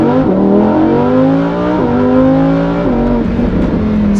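A Lamborghini Huracan EVO accelerates hard in sport mode, its engine note climbing steeply through three rising pulls, each broken by a quick gear change, loud and close.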